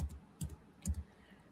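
A few quiet keystrokes on a computer keyboard as an email address is typed: three short clusters of clicks, close and soft, with stillness between them.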